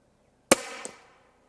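A single sharp crack from a Stoeger XM1 Ranger .25 PCP air rifle firing, close and loud, followed by a fainter second tap about a third of a second later and a quick fade.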